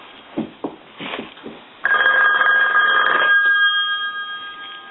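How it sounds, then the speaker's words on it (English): A red Western Electric 2500 desk telephone lets out one loud, close bell ring lasting about a second and a half after a few soft handling knocks, then the bell rings on and fades. "We'll go ahead and ring the telephone."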